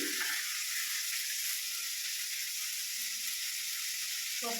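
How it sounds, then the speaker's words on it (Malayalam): Long beans sizzle steadily while they stir-fry with onion in a hot pan, a constant close frying hiss with no break and no talking. "ഇനി അതിലേക്ക് ഈ പയറ് മെഴുക്ക് വരട്ടാനിടാം."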